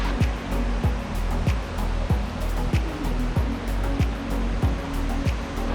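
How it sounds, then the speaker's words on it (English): Steady roaring rush of a waterfall in a California redwood forest fills the scene, broad and constant, with faint periodic low thumps running beneath it. "I feel the mist and the breeze coming from the waterfall."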